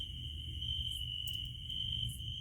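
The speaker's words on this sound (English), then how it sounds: "Man, those crickets." Steady, high-pitched cricket chirping drones continuously, with a low rumble of background noise underneath.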